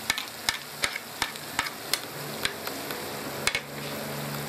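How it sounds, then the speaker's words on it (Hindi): Tomatoes frying with red chili, turmeric and salt in a pan for moong dal, a steady sizzle broken by regular scraping taps of a spoon stirring, about ten strokes, with no talking. "अच्छे तरीके से मिक्स कर थोड़ा सा फ्राई करेंगे"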